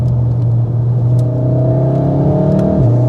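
Mountune-tuned VW Golf R Mk7.5 accelerating out of a corner, a loud steady engine drone heard from inside the car with a slight pitch drop near the end, no talking.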